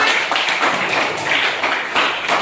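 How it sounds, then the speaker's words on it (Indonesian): A class of students applauds for a classmate after her presentation, a dense, steady patter of many hands clapping at once, close and lively. "Tepuk tangan dulu untuk Nesya."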